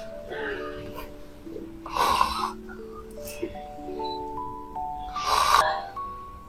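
A person under hypnosis snores loudly in a couple of raspy bursts amid a noisy room, with tonal background music and nearby voices.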